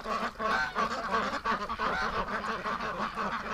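A wintering flock of ducks and geese, including a big female Peking duck cross, honks and quacks nonstop. The calls are close, loud and overlapping, with no talking.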